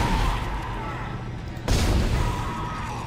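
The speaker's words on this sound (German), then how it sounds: "Ich brauche 5 Schüsse für das Mistviech." Gunfire in the survival-horror game Dead Space, two dull booming shots separated by about a second and a half over a dense noisy game backdrop.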